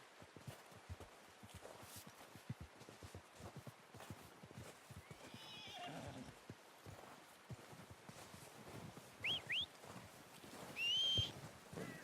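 A horse in the video game Red Dead Redemption II whinnies briefly near the end, faint against soft hoof steps, light rain and ambient outdoor noise.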